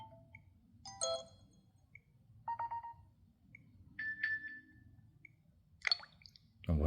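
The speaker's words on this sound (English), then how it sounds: "A water drop." Water drop notification tones on a Unihertz Titan 2 Android phone: several short, bright electronic blips and plinks, spaced out one after another, quiet over faint background noise.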